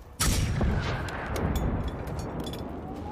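Gunfire in the video game Generation Zero, a sudden loud blast followed by a rumbling, sustained roar of shots and echoing booms that slowly fades.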